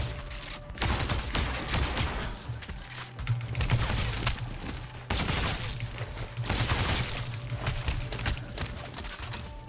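Bursts of gunfire from the sci-fi video game Steel Shell, rapid clusters of shots and impacts in dense runs with a brief lull before the firing resumes, loud and steady throughout with no talk.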